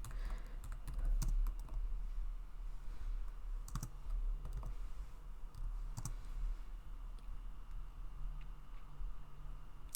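Plugin name typed on a computer keyboard, a steady run of soft, close key clicks and taps with a few louder strikes, alone over a low background hum.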